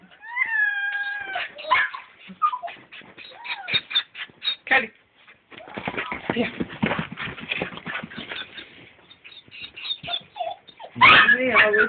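A cat meows near a person at a family home, with harmonic wails early on. Voices talk and laugh through most of it.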